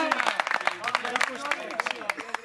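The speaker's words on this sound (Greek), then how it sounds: "Ένα χειροκρότημα θερμό" A studio audience at a Greek éntekhno music show gives warm applause: sharp, fairly quick claps that rise and fall under voices talking over them.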